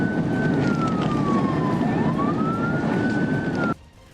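Traffic police car siren wailing during a chase of a fleeing car, a loud continuous up-and-down wail that sweeps low and then climbs again before cutting off abruptly near the end, with no talk.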